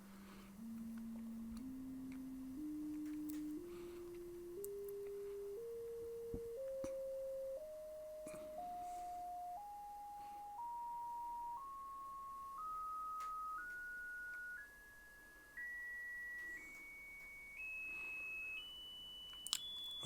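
A stepped test tone climbs steadily in pitch from low to very high through a cassette deck loaded with a TDK D Type I tape, each pure note held briefly before jumping up, with faint tape hiss underneath.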